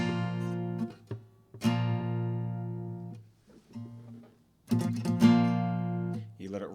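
An electric guitar strums a chord and lets it ring out, then repeats it in shorter, choppier bursts, with a clear gap of near-silence between the phrases.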